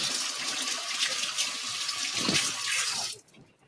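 Water runs steadily from a kitchen tap as hands are washed, a close, even hiss and splash that continues for about three seconds before being shut off.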